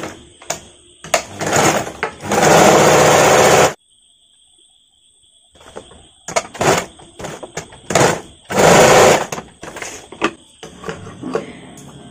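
A sewing machine stitches a princess cut blouse in two short, loud runs, with scattered clicks and handling knocks of fabric and machine between them and a brief silent gap.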